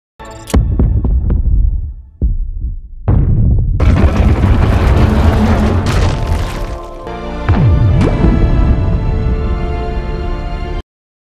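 A missile detonating in a sci-fi film, heavy deep booms and rumbling blasts layered with roaring hiss and debris, loud and sustained with abrupt cuts between shots.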